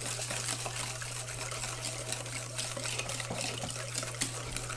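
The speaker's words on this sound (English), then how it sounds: "I'm going to need to add a little bit more water" Water poured into an Oreo pie mixture in a cup, a steady continuous gushing trickle at close range, running without pause and with no talking.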